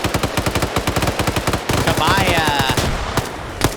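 Rapid bursts of automatic gunfire in a team shooter match crackle close and loud in quick repeated volleys, with a short stretch of steadier noise midway and a caster's voice talking faintly underneath.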